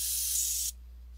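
A Badger airbrush hisses steadily as it sprays paint onto a half-scale bust, then cuts off abruptly partway through, leaving a low hum.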